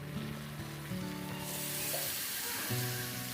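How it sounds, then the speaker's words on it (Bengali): Chicken pieces frying in a pan for biryani, browning in steady, moderately loud oil sizzle with occasional stirring scrapes, no voices present. "প্রথমে চিকেনগুলো ভালো করে একটুখানি লাল লাল করে ভেজে নেব"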